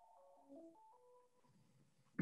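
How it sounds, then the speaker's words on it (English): A phone rings faintly with a short melodic ringtone of shifting electronic tones, followed by a brief sharp knock at the end. "I forgot to unplug my phone."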